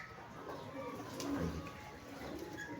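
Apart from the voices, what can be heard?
pigeons cooing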